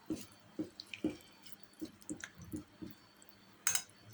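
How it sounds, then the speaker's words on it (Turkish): Water is poured into a garlic and purslane pickle, giving soft, irregular splashes, drips and wet squishes at close range, faint and with no voices. "İsterseniz biraz daha su koyabilirsiniz"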